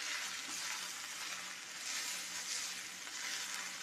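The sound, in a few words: stirring moringa leaves frying in a pan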